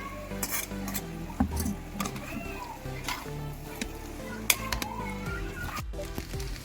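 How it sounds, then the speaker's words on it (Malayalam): Cooked spaghetti noodles tossed with chicken and vegetables in a pan for a Chinese-style chicken noodle dish: quiet, irregular clinks and scrapes of a utensil against metal, with soft stirring and a faint sizzle beneath. "വേവിച്ച് വെച്ചേക്കുന്ന ഈ സ്പഗറ്റി നൂഡിൽസും കൂടി ഇട്ട് നന്നായിട്ട് മിക്സ് ചെയ്തെടുക്കാം"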